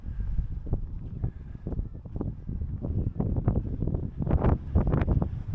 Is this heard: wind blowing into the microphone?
yes